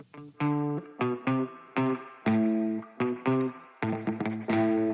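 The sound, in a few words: guitar with compression and spring reverb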